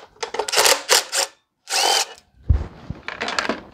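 Power drill backing screws out of a Craftsman riding mower with a Kohler Command engine: several short whirring bursts with pauses and a few clicks in between, close and loud, with no talking.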